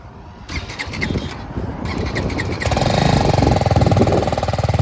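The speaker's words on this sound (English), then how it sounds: "So let's start BMW G310 GS." A BMW G310 GS motorcycle, already warm, is started: a whirring starter crank gives way to the engine catching and settling into a loud, rapid, pulsing idle heard up close, with no talk.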